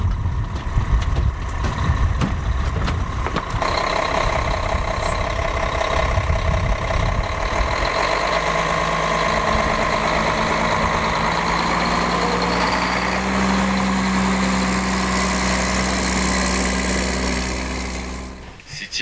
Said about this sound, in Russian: Все, сейчас садимся в ратрак.